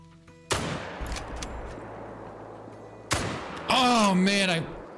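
Two loud rifle gunshots in the hunting video game Call of the Wild, the first near the start and the second about two and a half seconds later, each sharp with a short tail, followed by a person talking.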